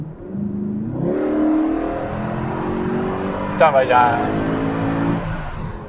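A Mercedes C63 AMG Pack Performance engine revs and pulls, a rising tonal roar with a brief sharp high-pitched note mid-way, while occupants talk over it inside the car.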